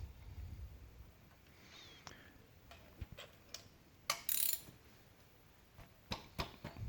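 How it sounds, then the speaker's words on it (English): Ratchet clicking in short bursts while removing spark plugs from a small car engine during valve cover gasket work; scattered ticks with a louder rasping burst midway, close and fairly quiet. "so now I'll take out the spark plugs"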